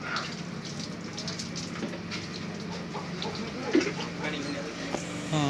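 Water being splashed and sprinkled across the floor of a new shop during cleaning on Makar Sankranti, a steady wet hiss with a brief louder splash near the end, while voices murmur in the background.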